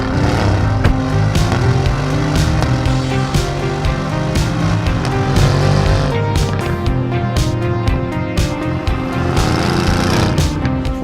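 A 2020 Mercedes-AMG GT R sports car on the move, its engine a loud, continuous rumbling drone with shifting pitch and a few sharper pulses, heard close throughout.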